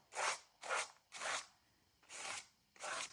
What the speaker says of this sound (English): I'm going to use this scraper. I'll put the gesso right onto my paper bag.